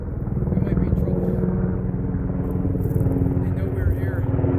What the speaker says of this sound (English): Right over us. Choppers. Yeah, there it comes.